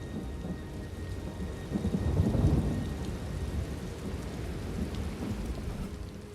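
Rolling thunder and steady rain from a thunderstorm in Elder Scrolls Online, a continuous wash of rainfall with a low rumble swelling in the middle and fading back, no voices.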